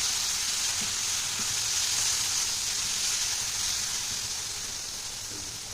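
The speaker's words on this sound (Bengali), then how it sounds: "তো এবার এটা ভালো করে ভাজবো" A spoonful of turmeric and half a spoon of dried chili powder fry in hot oil, giving an even, steady hissing sizzle that fades slightly toward the end.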